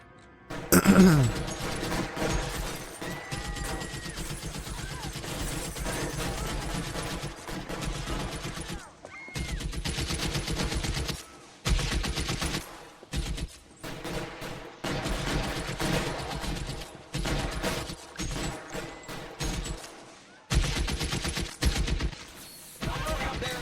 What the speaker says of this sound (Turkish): Kim sıkıyor lan?